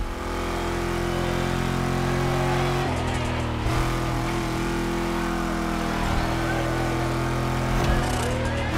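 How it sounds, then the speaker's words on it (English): Car engines rumble steadily throughout, loud and continuous, in The Crew Motorfest game set in Oahu, with a deep sustained drone and a shift near the three-second mark. "These engines."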